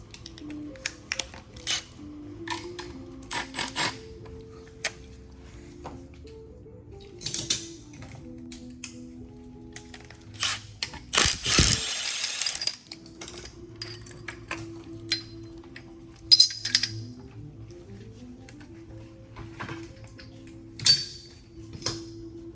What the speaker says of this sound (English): Now I'm going to remove a timing tool from the top.